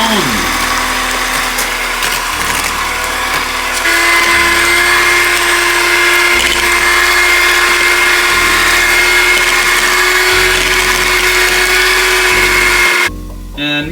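An electric mixer beats hummingbird cake batter with a loud, steady whine that shifts speed in steps, running continuously before cutting off abruptly at the end.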